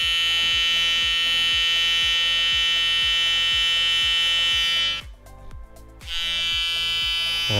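Electric hair trimmer buzzing steadily and close, with a strong pulsing hum; the tone changes briefly as the blades meet hair around a child's ear, then the even buzz returns.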